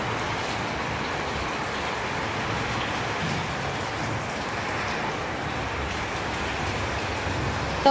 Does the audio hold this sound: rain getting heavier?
yes